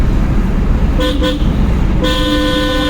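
Two short honks of a car horn, then a longer sustained blast, sounding close over a constant loud road and engine roar.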